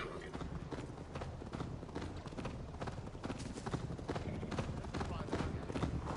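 Horse hooves galloping at speed in the Viking-era game Assassin's Creed Valhalla, a steady rapid clip-clop that runs loud and dense throughout, mixed with game music and effects, while voices talk over it.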